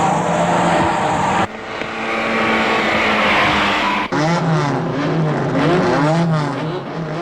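Toyota race cars compete in 1983 Cup races, including the Starlet Grand Cup, with loud engines roaring close by and sweeping past. The revs rise and fall through gear changes, and tires squeal continuously.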